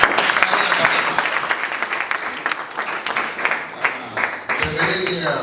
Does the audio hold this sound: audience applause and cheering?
yes